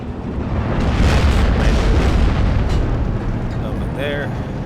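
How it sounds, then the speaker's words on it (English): Tank explosions in the WWII strategy game Steel Division 2 on the Slutsk map, a dense rumble of booms and blasts layered continuously, loud and sustained, with a voice talking over the battle noise. "Panzers getting destroyed over here."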